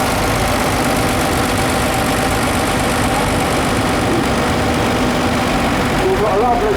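A vintage agricultural tractor from around 1962 runs in a show arena parade at an autumn show, its steady loud engine drone continuous throughout, with a voice talking over it.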